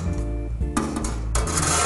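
Stainless steel trays slide into the rack of a commercial food dehydrator, giving two loud metallic scraping rasps over a steady low machine hum, close and with no talking.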